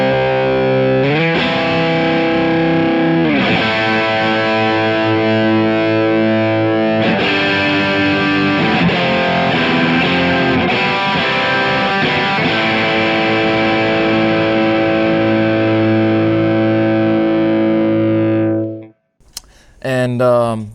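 An electric guitar runs through an OCD overdrive on a Kemper Profiler rig, with loud distorted sustained chords ringing for long stretches and changing a few times, then cutting to near silence before a brief burst at the end.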